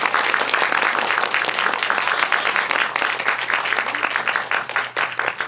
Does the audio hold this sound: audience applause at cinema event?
yes